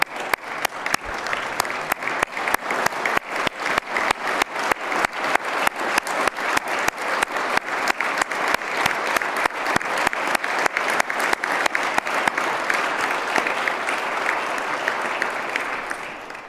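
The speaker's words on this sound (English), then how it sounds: "Why don't y'all stand up so we can give you the applause that our heroes deserve." A large audience at a state address gives honored heroes a long ovation, dense clapping with a pronounced rhythmic pulse that swells and stays strong for over fifteen seconds.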